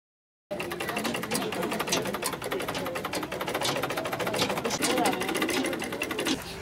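A sewing machine starts after a brief silence and runs steadily, a close, continuous rapid mechanical chatter with no pauses, while someone speaks over it.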